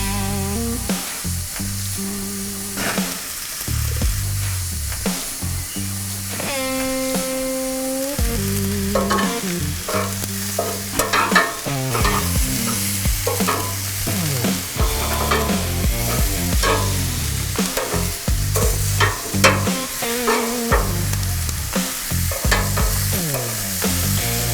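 Pork neck steaks sizzle loudly and continuously on a hot grill, with repeated scraping and clanking of tongs as they are flipped, and a brief metallic ring partway through.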